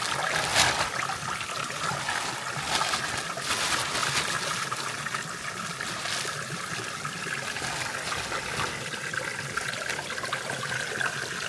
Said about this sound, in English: Back at the stream, the fresh crabs are rinsed clean in the cold water.